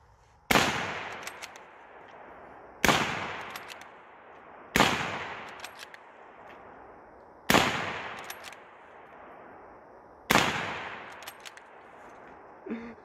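A Mauser Model 1895 rifle chambered in 7mm fires five loud, sharp single shots outdoors, each spaced two to three seconds apart, with a short echoing tail after every report.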